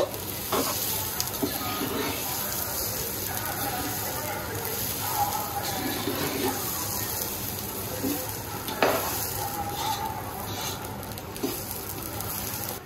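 Ingredients sizzling steadily in a pan for chicken tehari, a continuous quiet hiss and crackle with occasional stirring scrapes.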